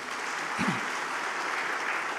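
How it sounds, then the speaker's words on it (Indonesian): An audience at a millennial farmers' inauguration event in West Java claps steadily, a dense, even wash of applause throughout, with a brief voice rising through it. "tepuk tangan untuk Kang Irfan"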